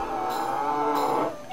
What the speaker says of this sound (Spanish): Y ahí está la vaca.